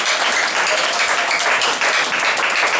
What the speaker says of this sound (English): give me a clap offering to God.